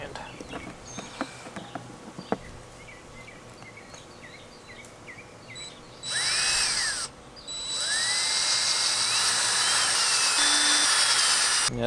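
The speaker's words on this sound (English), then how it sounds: "I don't like drilling towards my hand." Handheld power drill boring angled holes into a mud motor prototype part, a high whining spin that starts in short bursts, then runs in two longer loud stretches separated by a brief pause, with light handling clatter before.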